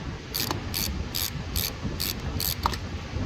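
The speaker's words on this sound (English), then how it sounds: "Next, we're going to loosen up the positive terminal here." Ratchet wrench clicking in short bursts as it loosens the positive battery terminal on a 2017 Nissan Altima, about eight quick rattling strokes, close and clear over faint background noise.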